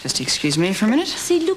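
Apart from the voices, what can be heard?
No distinct noise like a dog, phone or traffic.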